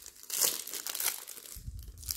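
Crinkly plastic packaging rustles and tears as a box of rectangular bottles is opened, a close run of crumpling and crunching noises with no talk.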